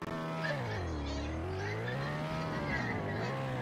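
Game snowmobile engine in a South Pole expedition video game, a steady close droning motor whose pitch rises and falls continuously with throttle, running alone without talk.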